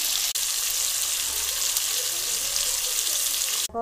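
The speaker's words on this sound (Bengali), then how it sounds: "আমুদে মাছ এবার ভাজছি" Amudi fish frying in hot oil give a steady, even crackling sizzle that stays close and level throughout, with a short sharper sound near the end.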